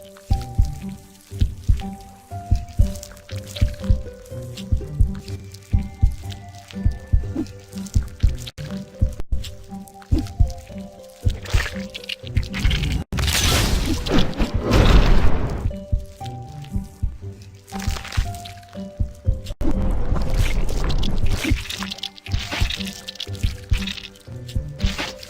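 Water drips repeatedly in American McGee's Grimm, the Red Riding Hood chapter, wet squishing drops scattered over a busy game soundtrack, with louder liquid splashing bursts midway and near the end.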